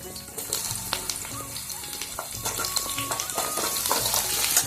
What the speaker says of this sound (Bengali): কুমড়োটা ভাজবো আলুর সাথে